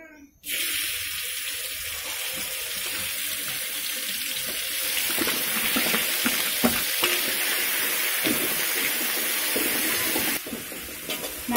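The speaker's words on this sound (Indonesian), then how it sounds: "kita goreng dulu bumbunya" Spice paste fries in a pan with a loud, steady hiss and sizzle, its bright crackle holding close and continuous with faint clinks of stirring and no talk over it.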